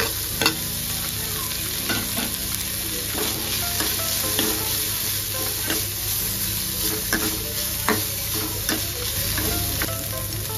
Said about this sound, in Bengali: একটুখানি নাড়াচাড়া নেড়ে চেড়ে নিলাম আর কি